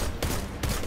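Two sharp bursts of solar linear fusion rifle fire from Destiny 2, each a loud, dense blast about half a second apart.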